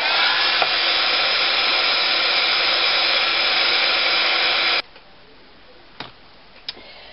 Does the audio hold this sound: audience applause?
no